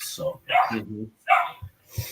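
A dog barks in short bursts, close and fairly loud, interleaved with people talking, at an ice fishing gathering on a frozen lake.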